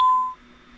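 An ATD Safewatch 3000 alarm keypad, also sold as Brinks Ademco, gives a single clear electronic beep that fades after a third of a second and leaves a faint hum while an old code is cleared.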